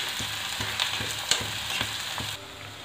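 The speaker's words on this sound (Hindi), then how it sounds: "इधर मेरी सब्जी अभी फ्राई हो रही है।" Vegetables for white sauce pasta frying in a pan, heard as a close, crackling sizzle with regular stirring scrapes that drops quieter near the end, with no talking.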